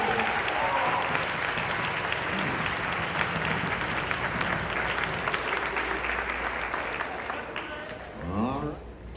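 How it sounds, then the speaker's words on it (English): An audience applauds dancers at a West Coast Swing champions Jack and Jill competition, a loud sustained clapping that fades near the end as a voice begins to speak. "a round of applause for Maxence and Patty"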